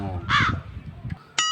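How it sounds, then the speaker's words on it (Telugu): A crow caws twice, harsh and fairly close, a short pause between calls, with a little background talk. "ఆ కాకి అప్పుడే పోయింది"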